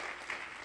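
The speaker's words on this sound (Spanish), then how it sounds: "Denle un fuerte aplauso al Señor" Applause from a church congregation during a Spanish-language worship service: a dense, steady wash of clapping at moderate distance that fills the short moment without a break.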